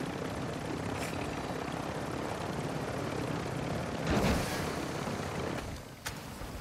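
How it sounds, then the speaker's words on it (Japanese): Helicopter in the DMZ mode of Call of Duty, a steady loud rotor and engine drone filling the whole stretch, swelling briefly near the end with a few sharp impacts, no talk over it. "ヘリがお釈迦になりそう"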